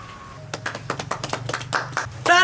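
A few sharp hand claps in an irregular, quickening run at a family engagement celebration, close and distinct, with voices and a brief melodic tone in the background.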